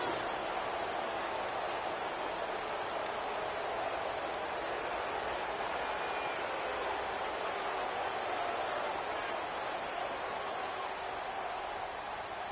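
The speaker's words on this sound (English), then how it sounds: "It's not looking like the rain's going to let up anytime soon" Steady rain falls throughout a PS4 American football video game, a continuous even hiss with no breaks, moderately loud and unbroken by any voice.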